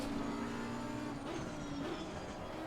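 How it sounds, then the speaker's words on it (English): Steady engine drone of a McLaren race car in the sim racing game Assetto Corsa Competizione, held at a sustained pitch with slight shifts in revs, continuous and moderately loud. "With obviously the McLaren Shadow car sounds the best in this."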